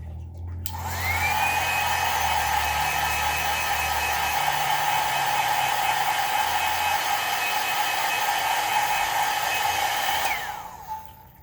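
A handheld dryer blows on gray base paint on an Air Jordan 16 sneaker midsole, a steady loud whooshing whine with a constant pitch that starts abruptly and runs evenly for about ten seconds before winding down, no talking.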